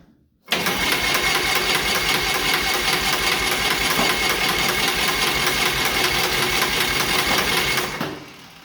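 John Deere R tractor's pony engine cranks and catches on its first start, then runs loud and steady with a rapid clattering beat for several seconds before cutting off.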